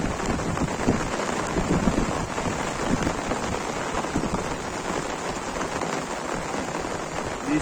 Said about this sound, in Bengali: প্রচুর বৃষ্টি চলতেছে আমাদের এই অঞ্চলে।